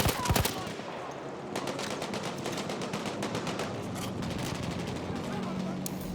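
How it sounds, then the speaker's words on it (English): Rapid automatic gunfire from the video game Battlefield 1 rattles in dense bursts over a battlefield din, with a brief voice heard partway through. "Where's that shooting come from?"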